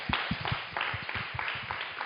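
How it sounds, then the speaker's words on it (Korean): Audience clapping at a church-school teachers' seminar, welcoming a speaker: a short burst of scattered, rhythmic hand claps, moderately close, with no talking. "우리 박수로 환영하도록 하겠습니다"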